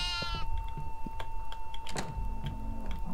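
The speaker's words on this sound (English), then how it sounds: "We have goat." An indoor goat gives a bleat near the start, fairly loud and close, followed by clicking and tapping noises and a steady electronic hum.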